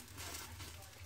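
An egg frying in a pan, a faint, quiet sizzle with soft scraping and a small clink at the end, close and alone.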